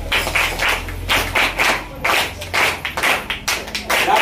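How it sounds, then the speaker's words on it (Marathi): An audience at a Constitution Day event at a village school claps for the village, a rhythmic unison clapping of many hands in steady beats, fairly loud and close, with no talk over it. "या गावाला टाळ्या वाजवा"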